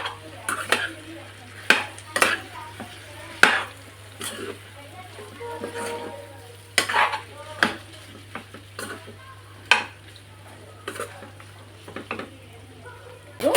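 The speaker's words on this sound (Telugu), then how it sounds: "ఇదంతా కూడా మంచిగా మిక్స్ అయ్యేటట్టుగా కలుపుకోవాలి." A spoon stirs spicy Andhra-style chicken fry in a pan, scraping and clinking against the metal in irregular strokes over a soft sizzle, with a voice speaking between them.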